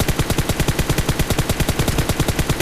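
Full-auto gunfire in the mobile shooter PUBG Mobile rattles off as a rapid, steady burst of shots, loud and close, with no talking over it.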